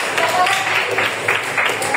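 Audience clapping at a Catholic catechesis session in Semarang, a dense, steady patter of many hands that fills the whole moment, mixed with a murmur of voices.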